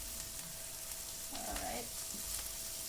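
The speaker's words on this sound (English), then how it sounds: "Let that garlic get a little bit going there." Garlic fries in a soup pot with a faint, steady sizzle and a brief stirring scrape partway through.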